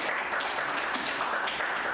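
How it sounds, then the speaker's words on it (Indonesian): Steady applause for a group at a school observation session, a dense patter of many hands clapping at even loudness, with no voices over it. "Ya, tepuk tangan buat kelompok 1."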